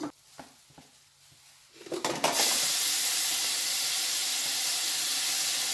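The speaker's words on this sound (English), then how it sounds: "Cinnamon sticks. I'm just going to saute this for a couple of minutes." Cinnamon sticks hit a hot pan of oil with a few clinks and taps, then a sudden loud hissing sizzle erupts and holds steady and close until the end.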